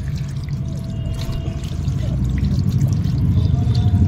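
Water pours steadily over two Shiva idols, one of stone, during a Shravan Monday puja, a continuous close splashing stream that swells slightly toward the end, with no voices.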